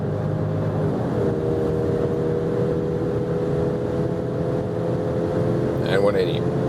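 A BMW X3 30i xDrive SUV engine pulls steadily in sport mode from about 90 km/h, a continuous droning hum heard from inside the cabin with a brief voice near the end.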